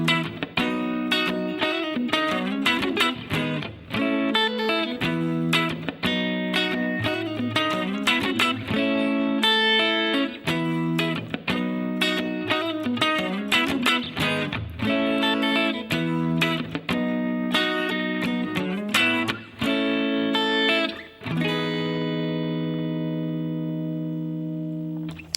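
Acoustic guitar strummed through verse chords with added embellishments, a steady, loud, continuous rhythm of bright chord strokes, played alone and ending on a ringing sustained chord.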